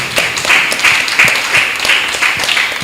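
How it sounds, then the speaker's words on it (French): Audience applause at a public event on the education and care of disabled children, honouring young journalists and presenters; steady clapping from many hands holds for about three seconds with no speech over it. "On peut les applaudir encore une fois."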